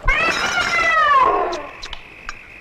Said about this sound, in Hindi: रघु, तुमसे कितनी बार कहा कि इस बिल्ली को खाने की टेबल से दूर रखा करो।